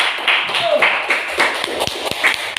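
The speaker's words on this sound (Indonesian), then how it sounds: "Tepuk tangan buat MC kita." Audience clapping for the MC at a seminar, sparse claps with a few sharp individual hits over a couple of seconds, with voices in the background.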